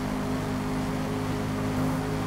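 A V10 race car engine in the Forza Motorsport racing video game drones steadily from behind, a constant humming tone with a buzzy edge and no breaks or pitch changes.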